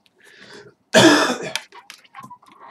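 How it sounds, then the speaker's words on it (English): A single loud, harsh cough bursts out near the microphone, followed by softer throat noises and faint breathing in an otherwise quiet room. "Sorry to keep coughing."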